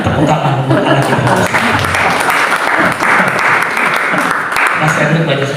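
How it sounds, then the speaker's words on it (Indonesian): Loud, sustained applause from a large church congregation, steady clapping filling the whole stretch. "Tepuk tangan buat anak kita."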